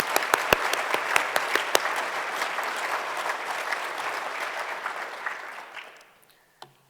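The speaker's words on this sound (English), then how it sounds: "So could we just give them a wee round of applause?" A conference audience applauds steadily for departing destination leaders at a Scottish agritourism event, loud sustained clapping with a few sharp claps at the start, fading out near the end.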